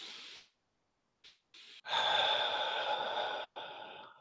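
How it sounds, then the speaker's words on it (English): Deep breathing with breath blown out hard: a short breath and a couple of brief catches, then a long, loud, forceful exhale up close, followed by another short push of air. "Breathe, blow it out."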